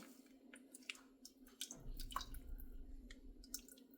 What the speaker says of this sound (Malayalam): നമ്മുടെ വെള്ളരിക്കയിലേക്ക് തൈര് ഒഴിച്ചു കൊടുക്കുകയാണ്